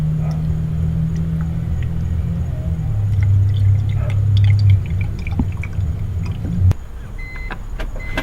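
Coolant poured into a BMW engine: a steady low gurgling glug of liquid running into the filler for several seconds, then stopping with a clunk, followed by faint clinks and small handling noises nearby.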